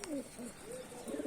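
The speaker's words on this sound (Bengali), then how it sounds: "এইটা শুধু বাইরের পায়রা, 2টো বাইরের পায়রা আছে" Pigeons coo softly in a loft of Rajshahi Giribaz pigeons, a few low, rounded coos in quick succession, faint and close, with no talking.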